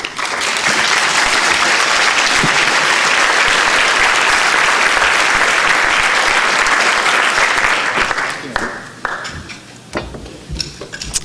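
Loud, sustained audience applause in a lecture hall as a speaker is welcomed to the stage, a dense wash of clapping that fades after about eight seconds into scattered claps.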